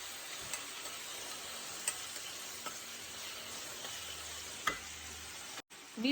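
Onions and tomatoes for a cluster bean bhaji are stirred in a pan, a soft continuous sizzle broken by a few faint scrapes and taps of the spoon, fairly quiet throughout.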